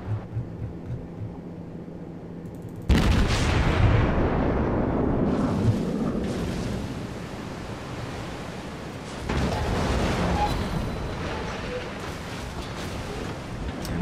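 Incoming naval gunfire in World of Warships, a heavy cruiser Aoba under fire from a battleship: a loud sudden boom of shells striking near the ship, followed by a rumbling wash of water and a second swell of blasts, with quiet engine hum before.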